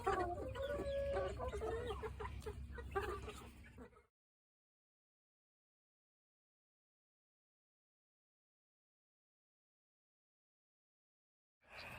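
Backyard chickens cluck close by for about four seconds, mixed with some talk, followed by a long stretch of near silence.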